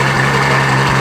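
A Ferrari F12 supercar engine holds a loud, steady drone with a strong low hum, close by and with no voices over it.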